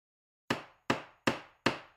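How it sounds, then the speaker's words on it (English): Four loud hammer blows land in an even rhythm, each a sharp crack that fades quickly, with silence before the first strike. "A loud hammering"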